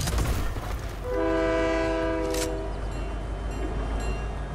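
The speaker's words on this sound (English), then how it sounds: "Oh shoot, the train!" A train horn blares in the Fortnite battle royale video game, a loud sustained multi-tone blast lasting about a second and a half over steady rumbling game noise.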